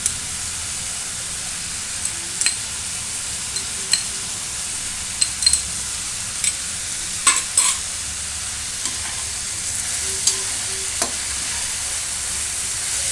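Ginger-garlic-chili paste sizzles and fries in a pan with vegetables for veg dum biryani, with a steady low frying hiss broken by sharp scraping clicks of a spoon stirring every second or two, close and alone.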